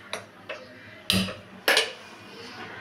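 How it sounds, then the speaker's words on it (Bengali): Gas stove being lit under a kadai for dal, a few sharp metallic clicks and taps from the igniter and pan, the last two louder, with a soft hiss in between. "এবার আমি গ্যাসটা জ্বালিয়ে দেবো।"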